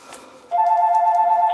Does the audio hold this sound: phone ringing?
yes